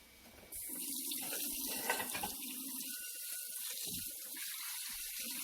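A kitchen faucet turns on and runs steadily as a plate is rinsed under it, a close, even rush of water with small splashing changes as the plate moves through the stream.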